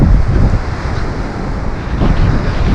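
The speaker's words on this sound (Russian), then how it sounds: "Вот не было бы ветра, было бы вообще все шикарно." Gusty wind roars across the microphone on a seaside embankment in Lazarevskoye, Sochi, a dense, loud and continuous rush with low buffeting rumble and slight swells, heard alone.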